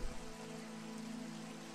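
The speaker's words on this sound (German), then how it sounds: "Oh nein, es regnet noch mehr als vorher." Heavier rain in the video game Elex makes a constant hiss and patter over a low droning ambient hum, steady and fairly quiet throughout with no one speaking.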